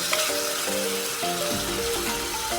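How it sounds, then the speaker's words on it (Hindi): Masala spices fry for a chicken curry gravy in a Chhattisgarhi-style village kitchen, with a steady, close sizzle throughout and faint tonal sounds in the background. "अभी जो है वो मैं ग्रेवी के लिए भून रही हूँ मसाला को"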